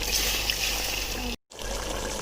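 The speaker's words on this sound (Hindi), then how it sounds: "1 कप पानी ऐड कर दें।" A cup of water is poured into simmering mutton dalcha gravy, a steady close trickle and splash that breaks off in a brief silence before the cooking noise resumes.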